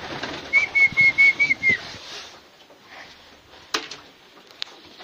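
Pigeons being fed, giving a close, soft series of rhythmic coos and purring calls, followed by a quieter pause with a few sharp taps and brief wing flutters.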